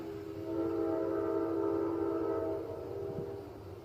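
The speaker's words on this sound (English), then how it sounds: "that's a train going by. If you can hear that." A train rumbles past with a steady low roar and a sustained horn-like tone that swells, holds for a couple of seconds, then fades.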